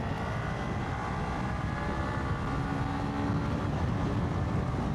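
A Hero X Pulse 200 motorcycle pulls hard in third gear on a 70 mph dual carriageway, a steady droning engine buried under heavy wind roar, continuous and loud throughout.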